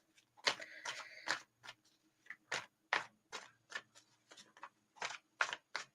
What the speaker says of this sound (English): I'm getting told not to shuffle them as fast.